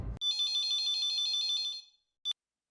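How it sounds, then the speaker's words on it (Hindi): A telephone rings on an outgoing call in a TV sitcom scene: a loud, steady electronic trilling ring lasting well over a second, then silence and the brief start of a second ring. "मैं अभी नट्टू काका को फोन लगाता हूँ।"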